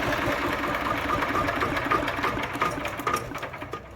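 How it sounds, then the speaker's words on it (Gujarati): A small tractor engine built with Japanese technology chugs steadily with a fast, rattling, mechanical rhythm, close and fairly loud throughout, with no voices. "જો આ ટ્રેક્ટરનો કેવો મસ્તીનો અવાજ છે"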